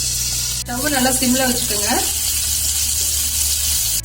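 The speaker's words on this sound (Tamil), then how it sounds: "மிளகாத்தூள் கரிஞ்சிராம இருக்கிறதுக்காக நான் கொஞ்சமா தண்ணி சேர்த்துக்கிறேன்" Water poured into hot oil with chili powder sets off a loud, sustained sizzle, with a voice speaking briefly over the frying at the start.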